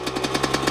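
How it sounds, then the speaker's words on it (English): Small dirt bike engine idling in neutral with a rapid, even chug of pulses, close and fairly loud, with no voices over it. "it's starting to idle high, and then real low of idle"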